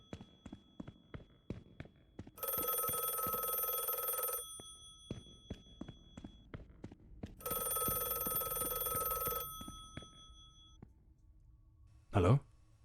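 Telephone bell ringing in a mystery video game, two long sustained bursts of loud electronic ringing separated by a pause, with soft footsteps or clicks throughout and a brief sharp tone near the end.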